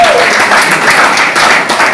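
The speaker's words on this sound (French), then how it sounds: "Pour l'applaudissement encore plus fort" Loud, sustained audience applause at a book launch ceremony, dense clapping throughout with a voice briefly audible at the start.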